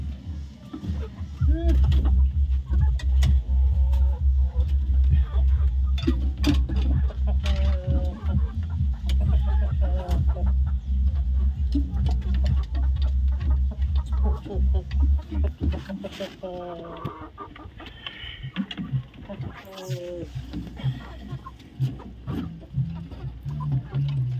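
Chickens cluck around their newly built nest in a sandy yard, with repeated short, near clucks and squawks scattered over a steady low background while a person talks.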